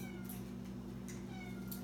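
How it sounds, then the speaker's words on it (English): A house cat meows softly three times in short, evenly spaced calls over a steady low hum, fairly faint and with no talking. "There's the cat trying to get up there again."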